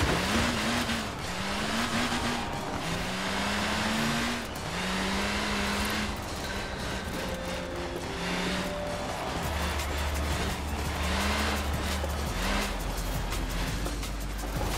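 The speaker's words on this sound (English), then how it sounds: "jumping up and down on the accelerator in a completely unrealistic manner" A car engine in the racing game Forza Horizon 4 revs in repeated surging bursts, pitch climbing and dropping as the throttle is stabbed on and off, with a low steady drone joining later, loud and constant throughout.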